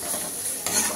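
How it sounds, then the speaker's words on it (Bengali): Pieces of chicken drop into a pan of oil-separated fried spice masala, giving a steady close sizzle that brightens and swells as they go in, with a scraping stir and no talk. "এরপর আমি চিকেনগুলো দিয়ে দেবো এটাকে।"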